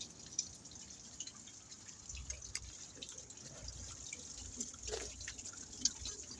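Rusty coolant drains from the radiator of a 2000 Dodge Dakota V6 during a flush, making a faint, steady trickle with scattered drips and a soft hiss, with no talking.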